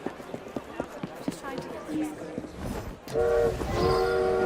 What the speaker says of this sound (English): that's the train station leaving